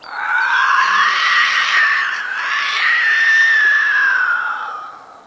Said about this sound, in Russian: Особенно там был жуткий крик.